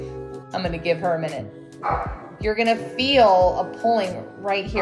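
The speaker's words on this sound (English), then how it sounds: "Sorry about my dog's barking." A dog indoors at home barks, yips and whimpers in several bursts, mixed in with a person talking.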